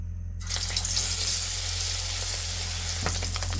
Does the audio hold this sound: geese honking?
no